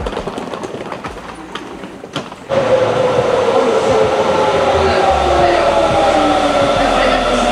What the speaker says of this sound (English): Good morning from the Sapporo train station.